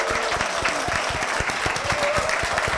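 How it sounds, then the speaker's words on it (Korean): A church congregation at Hwapyeong Church claps in a steady, lively round of applause, with distinct individual claps audible close by. "박수"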